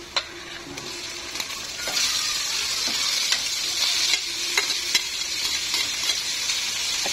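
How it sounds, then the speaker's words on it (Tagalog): Shredded chicken breast frying with onions crackles in a pan at moderate level, a constant sizzle punctuated by regular scraping and tapping stir strokes. "ilalagay na po natin yung ating hinimay na chicken"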